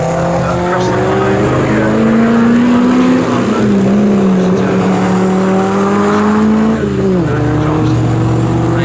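Morgan sports race cars at the Snetterton circuit roar past close by, engines droning loudly with shifting pitch as they cross the line, tyres squealing briefly near the end; a commentator talks throughout.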